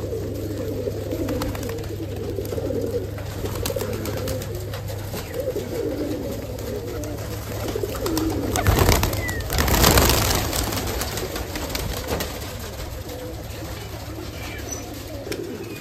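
Giribaz pigeons coo softly in the background amid a general murmur of birds, with a brief flutter of wings near the middle.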